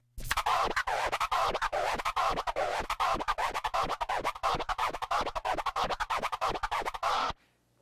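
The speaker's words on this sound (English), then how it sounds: "It's called the orbit. It's pretty much a 2-click flare" Rapid, rhythmic turntable orbit scratching, a two-click flare done forward and back, loud and close, with quick choppy back-and-forth cuts repeating steadily for several seconds before stopping abruptly.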